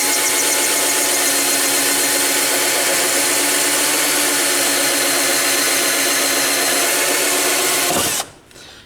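A power tool cuts an opening into the glove box of a Cummins truck, a loud, steady high whine running unbroken for about eight seconds before it cuts off abruptly, with no talk.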